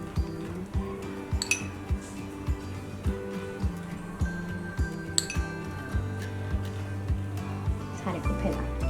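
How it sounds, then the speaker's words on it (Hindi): A metal spoon clinks repeatedly against a bowl or pan while desi ghee is spread over rolled paratha dough for a layered lachha paratha, sharp regular taps close up over a low kitchen hum, with a voice talking throughout. "अब हम किसी चम्मच की मदद से इस पर घी लगाएंगे।"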